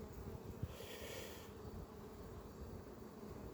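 Honey bees at an open hive give off a steady, soft droning buzz that holds throughout, with a slightly louder swell early on and no talking.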